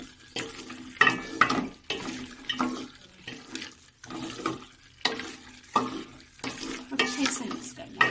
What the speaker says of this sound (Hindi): अच्छे से मिक्स कर लें इसे।